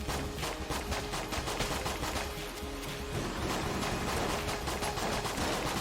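Dense, rapid gunfire from a powerful weapon in the video game Enter the Gungeon, a continuous loud stream of shots with overlapping explosions and impacts.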